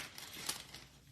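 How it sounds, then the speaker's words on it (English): A small plastic bag holding craft sentiment pieces crinkles and rustles in brief close handling, a short burst of crisp crackles with one sharper crunch midway. "So this is just a little plastic bag."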